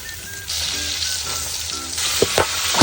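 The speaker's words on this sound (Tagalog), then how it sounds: "Dahil luto na to bago ipinirito, kaya mabilisang prito lang ang mangyayari dito." Food sizzles briskly in hot cooking oil in a pan during a quick fry of already-cooked food in a mountain setting, a close, continuous crackle with a few sharp pops near the end.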